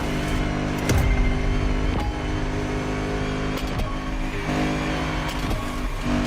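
A BMW Z4 M40i convertible driven in the racing game The Crew Motorfest, its engine a steady loud drone with tonal harmonics, brief rev swells and gear-shift transients recurring through the run.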